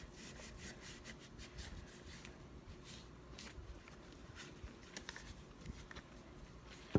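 Cloth rubbing over the surface of a display piece, working into the ears and where they join the head; a steady, close scrubbing and brushing texture with light scratchy accents, continuing throughout without speech.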